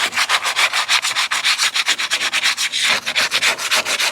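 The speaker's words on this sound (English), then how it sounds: "what I like to do is just get a little sandpaper." Sandpaper rubbing back and forth by hand over the cut edges of a homemade A/C window vent, a steady run of close, even scratchy strokes with no talking.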